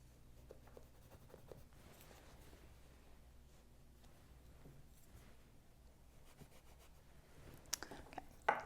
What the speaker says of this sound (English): Now that I've marked my felt all the way around, it's time to start cutting it.